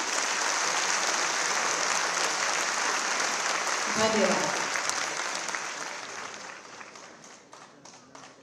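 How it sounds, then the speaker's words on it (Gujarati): Audience applause at a Gujarati cultural programme in Jaipur, a steady wash of clapping that slowly fades toward the end, with a brief spoken word of thanks partway through. "જો ગુજરાતી હોવાનો ગર્વ હોય તો જોરદાર તાળીઓ થઈ જાય."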